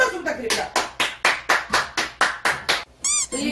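Steady, evenly spaced hand claps from a small audience at an indoor gathering in Daegu, about a dozen sharp beats in a row, followed by a brief high squeal at the end.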